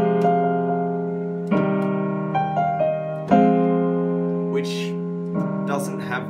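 A melody played in a plain minor key on a keyboard instrument, sustained notes and chords entering in several distinct phrases, clear and close with no talking.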